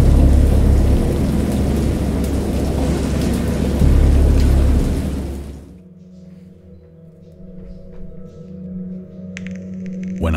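A heavy rainstorm pours down with deep rolling thunder, loud and dense for several seconds. It then cuts to a much quieter low hum with faint rain.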